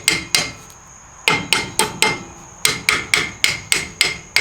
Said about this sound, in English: And then go ahead with a hammer.